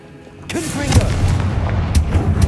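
Confringo fire spell in the game Hogwarts Legacy, a sudden booming burst after a quiet start, followed by a sustained rumbling roar with whooshing flares and a sharp crack near the end.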